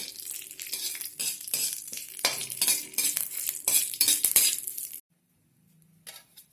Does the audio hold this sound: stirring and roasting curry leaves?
yes